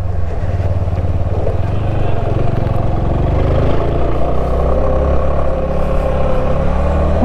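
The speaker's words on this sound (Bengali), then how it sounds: "ফার্স্ট গিয়ার দিয়ে গাই গাই করে উঠে যাচ্ছি গাই গাই করে" A vehicle engine strains steadily in first gear while climbing a steep mountain road from Gangtok to Mangan, a loud, continuous low drone mixed with wind noise.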